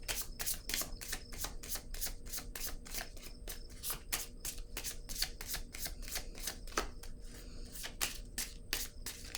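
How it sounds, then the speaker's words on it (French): A deck of oracle cards shuffled by hand, producing a steady, close riffling patter of rapid card flicks that runs throughout without talking. "je vais piger une autre carte sur elle"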